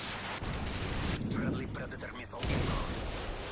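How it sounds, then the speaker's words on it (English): Gunfire and explosive bursts fill a free-for-all match in the shooter game Resistance, with dense booming rumble throughout and a voice talking over the action. "There's a bit of a gunfight over here."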